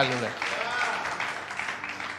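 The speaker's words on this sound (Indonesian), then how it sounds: "Kasih tepuk tangan bagi Tuhan Yesus." A church congregation claps after a preacher's call to applaud, a dense wash of hands that follows the tail of his voice and then continues steadily for about two seconds.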